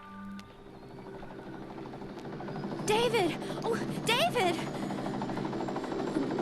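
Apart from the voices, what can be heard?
helicopter approaching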